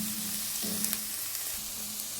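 Greens sizzling steadily in a hot pan while being fried for a palya, a continuous close hiss with occasional soft stirring scrapes and a faint low hum underneath.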